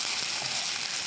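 Appe batter sizzling as it is poured into an oiled appe pan, a steady soft frying hiss that fills the whole short moment with no voices.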